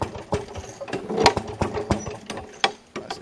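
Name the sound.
Maytag Model 92 engine running on a washing machine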